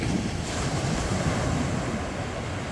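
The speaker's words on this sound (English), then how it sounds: "look at that surf, absolutely beautiful" Steady ocean surf rolls in at Ochheuteal Beach in Sihanoukville, a continuous close wash of breaking waves with wind buffeting the microphone and no voices.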